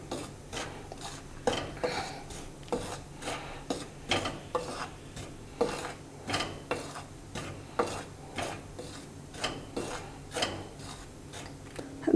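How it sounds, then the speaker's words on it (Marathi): Dry wheat flour roasting in a pan while a spoon stirs and scrapes it, steady rhythmic scraping strokes roughly every half second over a faint sizzle, close and fairly quiet, with no talking. "प्रथम सुकंच पीठ घालायचं आणि थोडं भाजायचं."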